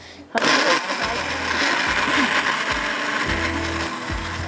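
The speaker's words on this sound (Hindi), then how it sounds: "बहुत ही फास्ट ब्लेड वाला ये हमारे पास है ब्लेंडर" A Super Asia blender with fast blades grinds a paste, starting abruptly into a loud, steady high-speed whir that holds for several seconds with slight pulsing changes in load.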